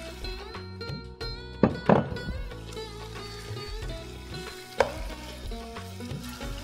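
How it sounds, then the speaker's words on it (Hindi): Chicken pieces frying with garlic ginger paste in a pan, a steady low sizzle with a couple of sharp clanks from stirring. "और इसको हम थोड़ा सा फ्राई करेंगे"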